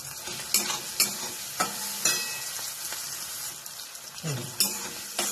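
Onion fries in oil for upma, a steady bright sizzle close to the microphone, broken by a series of spatula scrapes and clinks against the pan at irregular intervals.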